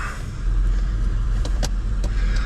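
A Honda car with a power problem runs and drives, its steady low engine rumble swelling after a moment, with a few brief clicks and ticks over the drone; no talk.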